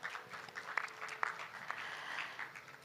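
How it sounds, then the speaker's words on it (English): Scattered applause from a small audience at a renewable energy hangout event, a brief quiet patter with a few sharper claps standing out, faint and thin throughout. "Give a round of applause for that."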